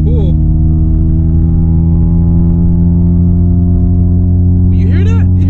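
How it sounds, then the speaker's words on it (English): The intake of a street-tuned 9th-generation Honda Civic Si drones steadily while driving, a loud, even engine hum with strong low harmonics and no clear rev change. A voice briefly cuts in near the end. "You hear that? You hear that intake?"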